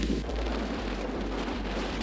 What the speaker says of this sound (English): I'm nearly done with this brutal headwind section